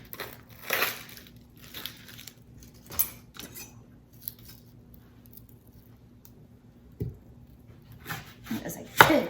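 A knife chops a large onion into big chunks on a cutting board for roasted salsa verde, a few scattered thuds and crisp cuts with quiet gaps between, close by.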